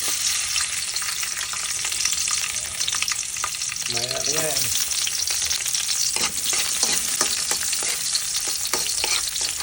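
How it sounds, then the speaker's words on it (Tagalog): Loud continuous sizzling of garlic and onion being sautéed and stirred in a pan, with a short spoken phrase partway through. "Magigisa tayo ng bawang, sibuyas"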